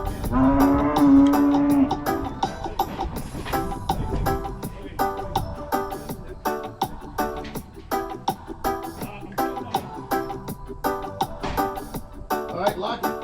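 Cattle moo on a farm where cows are separated, a long low call opening the scene and further lowing calls recurring over steady farmyard noise.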